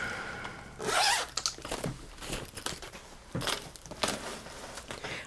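Zippers on zippered pouches that hold full letter-size sheets of paper are pulled, giving several quick, close zipping strokes with brief pauses between them and some faint plastic rustling.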